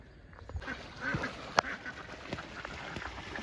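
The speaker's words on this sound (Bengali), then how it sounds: "হাঁসগুলো দেখুন কি সুন্দর খেলা করছে" Ducks quacking as they play, a few short nasal quacks scattered over a few seconds, fairly faint and outdoors with background noise.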